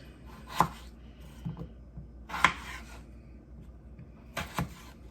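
A knife cuts thin-skinned, tender potatoes into wedges on a board, giving three sharp, separate chops a couple of seconds apart over quiet background rustle.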